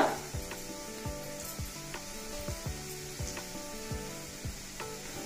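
Curry leaves, turmeric, cumin and coriander powder and asafoetida frying in oil in a pan for tamarind rasam, a close steady sizzle broken by repeated sharp taps and scrapes of a spoon against the pan, with no talking.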